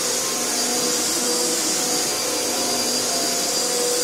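A Panasonic MC-UG522 upright vacuum cleaner runs steadily indoors, its loud, constant motor whine and airflow roar filling the space without pause or talk.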